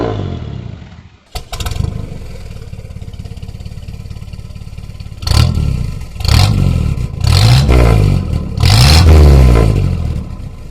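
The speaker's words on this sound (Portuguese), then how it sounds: "o nosso Opala ele está só o cano, ou seja, para um ronco mais esportivo" Chevrolet Opala engine with a straight-pipe exhaust, no muffler, starting up and idling with a rough, steady rumble, then roaring through several loud, deep revs near the end, each swelling and falling back.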